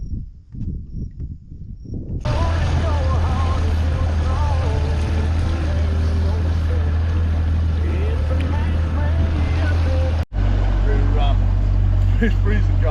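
Fishing boat outboard motor idling on a cold river, a steady low droning hum that starts abruptly after a few seconds of quieter noise and runs close and continuous, with a brief cut near the end.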